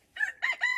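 A battered, double-factor rooster on a poultry farm gives a short, choppy crow in three quick bursts, fairly close and alone.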